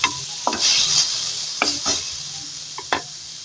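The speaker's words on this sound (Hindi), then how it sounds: "और इसे अच्छी तरीके से मिक्स कर लेंगे।" Achari masala ground with pickle and yogurt is stirred into macaroni in a pan, giving short scraping and sizzling strokes with a few sharp clinks of the spoon, close and fairly quiet.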